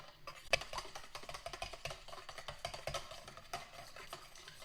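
Three large eggs and wet ingredients are whisked in a bowl, making quick, irregular clicking and tapping strokes of moderate loudness close by.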